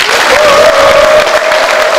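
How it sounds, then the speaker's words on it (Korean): A large audience gives loud, sustained applause at a Korean rally of regional councillors calling for decentralization. The dense clapping carries steadily throughout, with a faint crowd murmur beneath it. "다시 한번 큰 박수 부탁드립니다"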